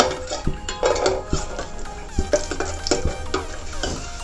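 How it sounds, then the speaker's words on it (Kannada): Cashews and raisins frying in ghee for carrot halwa, soft sizzling under frequent clinks and scrapes of a spoon against the pan, close and without speech. "ಗೋಡಂಬಿ ದ್ರಾಕ್ಷಿನ ಫ್ರೈ ಮಾಡ್ಕೋಬೇಕು."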